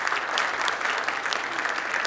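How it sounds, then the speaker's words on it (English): Audience members applaud a panel at a national summit, filling the room with a continuous, fairly loud wash of clapping with no voices standing out. "Let's give them a round of applause."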